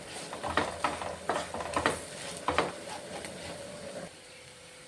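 Garam masala and other spice powders being stirred and fried in a pan, with repeated scraping strokes and a soft sizzle, close up and with no voices.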